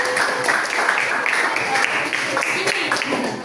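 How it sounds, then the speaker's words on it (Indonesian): Junior high school students clap together in a classroom, a dense, busy patter with some voices and chatter mixed into the applause throughout. "Oke, tepuk tangan"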